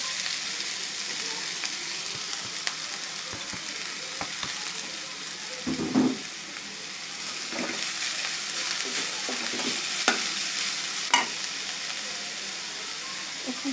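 Radish greens hitting a hot pan and being stirred, a steady sizzle and frying hiss with scattered scraping stirs and a few louder clatters, no talking.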